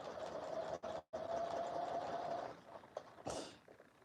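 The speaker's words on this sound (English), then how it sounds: "I'm going to stitch on that seam line just to go over that" Up close, a sewing machine topstitches along an inside seam line, holding a steady whirring run that breaks off for a moment, restarts, then trails into a few softer stops and a brief scuffing noise.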